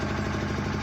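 Generator engine running, a brief steady mechanical drone with a low pulsing throb, close and continuous, with no talking.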